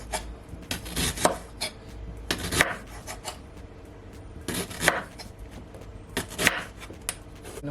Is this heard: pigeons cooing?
no